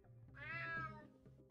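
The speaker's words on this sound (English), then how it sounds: "Damn cat." A cat meows in the video game UnMetal: one drawn-out, rising-then-falling meow, clear and fairly close, over a low steady game background.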